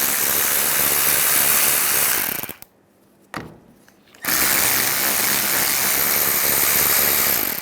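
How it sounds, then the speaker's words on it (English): Continuous loud mechanical whirring, likely a power ratchet with a 10mm socket spinning off the cooling fan nuts on a 1998-2010 Volkswagen Beetle, cut by a brief near-silent gap before resuming steadily. "Now we're going to take these 3 nuts off."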